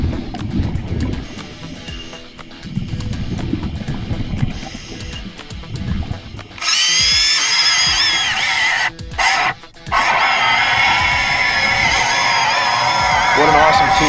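An underwater chainsaw of about 13 horsepower, weighing roughly a pound and a half underwater, cuts with a muffled churning rumble that starts softer, then turns loud and continuous with a brief break, as voices talk over it.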